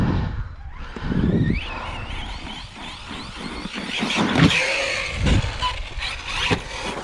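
Corally RC car buzzing and revving as it drives and jumps, its motor pitch sweeping up and down with thumps of landing between bursts of speed.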